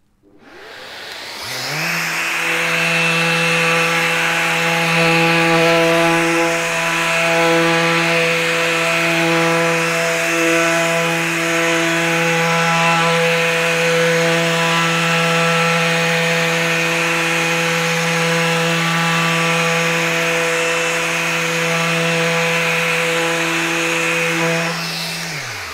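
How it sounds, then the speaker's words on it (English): An orbital sander runs on wood alongside a dust extractor, a loud, steady motor whine starting up quickly and holding constant for about twenty-five seconds before shutting off. "I'm going to do a little bit of sanding on this while I've got some time."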